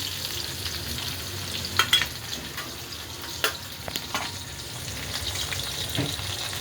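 Onion tossed into hot oil with cumin in a pan, a close steady sizzle punctuated by a few sharp stirring knocks and pops, heard without any voices.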